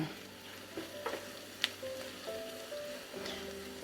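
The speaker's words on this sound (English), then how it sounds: "now I'm just going to add in the minced garlic" Minced garlic with onions and celery frying in a pan, a soft continuous sizzle broken by light stirring scrapes and one sharp clink from a utensil.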